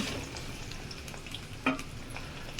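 Potatoes sizzling and frying in a pan with browned onions, a close, steady crackle with a brief stirring scrape near the middle, no talking.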